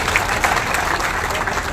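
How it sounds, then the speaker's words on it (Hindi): Steady, dense applause from a crowd at a Rajput community gathering in Rajasthan, loud and continuous throughout with no pauses. "भैया ये बड़ा अलग है, ये राजस्थान का, इसके लिए ताली बजाओ।"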